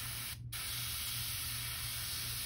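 An airbrush sprays lemon yellow paint onto a custom crankbait fishing lure in a continuous fine hiss, briefly cutting out near the start, with a low hum beneath.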